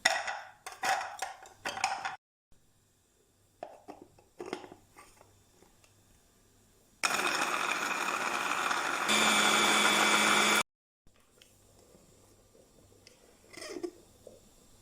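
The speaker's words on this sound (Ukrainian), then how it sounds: "Цибулю, чесник, болгарський перець та петрушку вкидаємо в блендер і перебиваємо до однорідності." A kitchen blender blitzes onion, garlic, bell pepper and parsley into a smooth paste: a loud, steady whirring run of a few seconds that shifts pitch partway through, with quieter clatter and handling sounds before and after.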